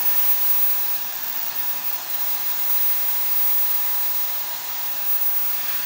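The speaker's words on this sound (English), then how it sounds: "And then I just literally hit it with a bit of tension in this diffuser" A hair dryer fitted with a diffuser blows on curly hair in a steady, close, airy roar that holds constant throughout with only faint bumps.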